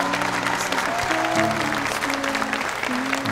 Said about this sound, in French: Donc je pense qu'on peut l'applaudir.